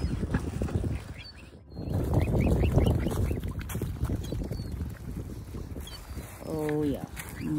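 Ducks and a swan call during a daybreak bird feeding, with close quacking and squawking bursts over a busy outdoor background, a voice speaking at times and a harsh honking call near the end.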